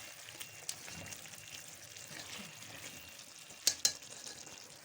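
Taro root and eggplant are stirred in a pan over low heat, giving a faint, quiet sizzle with soft stirring and two sharp utensil clicks close together near the end.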